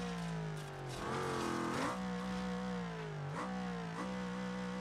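Car engine in BeamNG revving under throttle, a steady droning motor with rising and falling pitch sweeps as the revs climb and dip, clear and continuous with no talking.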